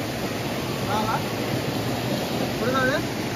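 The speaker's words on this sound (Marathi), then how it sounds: "वर आहे धबधबा" Waterfall by a stream in a rocky crab-catching spot, a broad steady rush of falling water close by, with brief voices talking over it.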